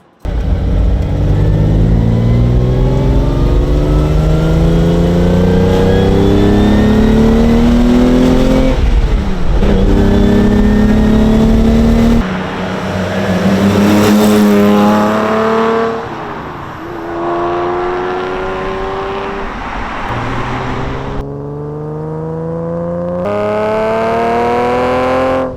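A Ferrari 365 GTC4 on the road, its engine revving repeatedly through gears with rising and falling pitch, loud and close throughout, with brief lifts between pulls.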